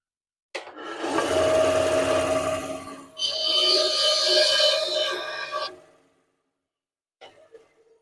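A powered saw cuts through small wood pieces in two long, loud, close passes with a brief break between them, then falls silent with a faint clatter near the end.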